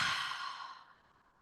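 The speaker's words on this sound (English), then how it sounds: "So let's breathe, because that's the ultimate flow, right? Breathing in and out." One slow, deep breath drawn near the microphone, a soft airy sigh that starts full and fades gradually into quiet, with no other sound around it.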